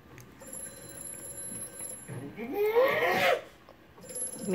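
A telephone rings with a repeating electronic bell pattern, steady and fairly clear, broken midway by a loud burst of talk or shouting before the ringing resumes.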